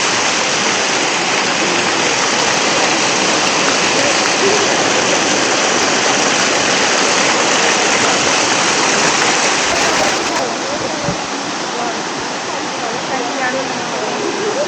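Loud, steady roar of the Pattathippara forest waterfall, a thick continuous rush of falling water that eases slightly in level near the end.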